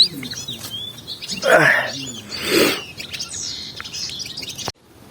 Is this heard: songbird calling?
yes